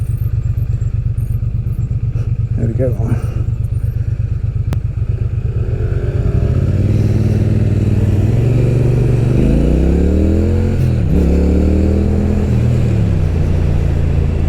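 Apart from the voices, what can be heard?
Speed Twin motorcycle riding and filtering through traffic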